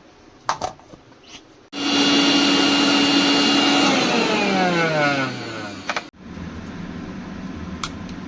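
A kitchen grinder whirs loudly for about four seconds while blending carrot and garlic with a little water into paste, its motor pitch sliding downward before it cuts off, with faint clinks before and after.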